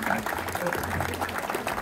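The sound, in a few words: audience applause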